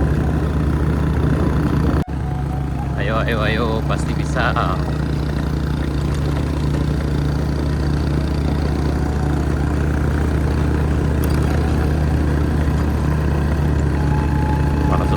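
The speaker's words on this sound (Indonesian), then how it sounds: "Ini kayaknya motor di sini agak nangis nah setelah ini nanjakannya." A small motorcycle's engine labors steadily on an uphill climb along Jalan Muaro Aie Alpa, a continuous low drone close to the microphone, with people talking over it briefly.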